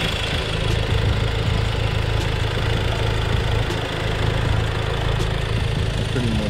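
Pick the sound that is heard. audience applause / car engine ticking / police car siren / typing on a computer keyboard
car engine ticking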